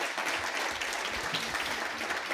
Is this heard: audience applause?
yes